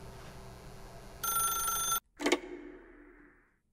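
A telephone bell rings in a bright, steady burst for under a second, then cuts off abruptly, followed by a sharp clatter as the receiver is lifted and a fading rustle, with no talk.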